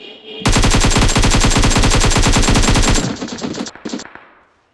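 Loud bursts of rapid automatic gunfire from a battle royale video game, a dense regular volley lasting about two and a half seconds, then a few scattered shots trailing off.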